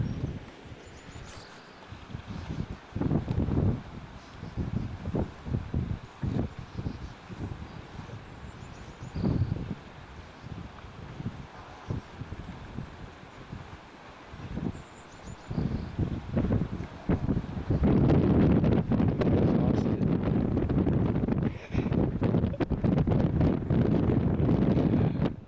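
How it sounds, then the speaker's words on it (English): Strong wind buffets the microphone on a rooftop about 100 feet up above Lake Travis, with gusting rumble and rustle that swells louder and steadier toward the end. "It's windy out here."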